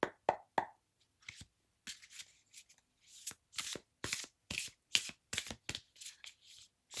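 Tarot cards being shuffled by hand, a close series of soft papery riffles and slaps in uneven bursts that grow busier and quicker toward the end, with no voices.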